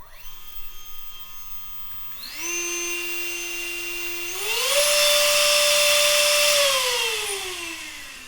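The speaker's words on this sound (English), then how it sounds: "the motor still works, but it moves no air" The motor of a broken TF64 Booster Turbofan spins with no blades, a close high-pitched electric whine that steps up twice in speed, holds steadily, then begins to wind down.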